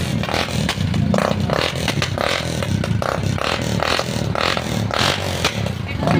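A motorcycle engine runs steadily through its muffler, a loud, close, continuous rumble with a rhythmic pulsing chug and some rattly clatter throughout.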